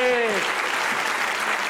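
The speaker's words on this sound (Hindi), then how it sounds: "लाला के लिए जोर से तालियां यार" Audience applause breaks out at a comedy talk show, a dense, steady burst of clapping that fills the whole moment at close range, with a short vocal cheer or call near the start.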